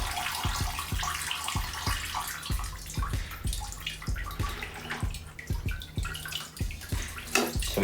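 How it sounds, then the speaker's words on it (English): Acetone drains and trickles out of a homemade RC tire-removal jig as it is slowly lifted. A steady close wash of liquid runs under a rapid, regular patter of drips. "you want that acetone to drain out of there"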